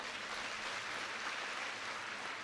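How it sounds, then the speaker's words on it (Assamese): Dense, steady applause from an audience at a public event for a government women's entrepreneurship scheme in Bihali, held in honour of a minister and department officials. The clapping stays continuous and even throughout, with no talking over it. "আপোনালোকে এটা ডাঙৰ হাত চাপৰি বজাই দিয়ক"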